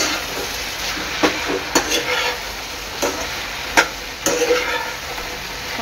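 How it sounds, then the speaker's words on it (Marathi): Fried soybeans go into a hot pan with cornflour paste for soybean chilli and are stirred, with sharp spoon-on-pan clacks and scrapes at irregular intervals over a continuous close sizzle. No one talks. "आता याच्यामध्ये मी ऍड करणार आहे आपले सोयाबीन फ्राय केलेले."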